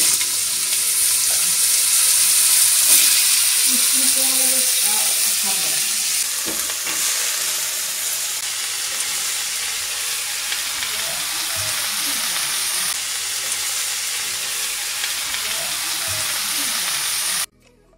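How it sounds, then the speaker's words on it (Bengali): Chopped bottle gourd sizzles and fries in hot mustard oil in a pan, starting with a bright hiss and settling into a steady crackle as it is stirred, with light clinks and a brief tap-water sound. "তেল গরম হলে তাতে দিচ্ছি কেটে ধুয়ে পরিষ্কার করে রাখা লাউগুলো"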